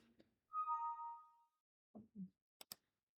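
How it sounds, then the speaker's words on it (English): The Windows 8 build 8032 new email notification chimes as a soft, short tonal whistle, followed by a few faint plops and clicks in an otherwise quiet stretch. "New email notification."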